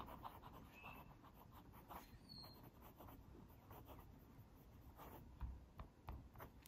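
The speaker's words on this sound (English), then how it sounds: "Reverse writing." A Platinum Preface fountain pen writes with its nib reversed across Tomoe River paper, laying down Noodler's Blue Black ink in faint, close, soft scratchy strokes over a quiet room.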